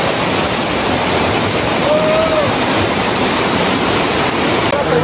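Roaring water pours down Dudhsagar waterfall during the monsoon, a loud, dense, steady rush with no talk over it.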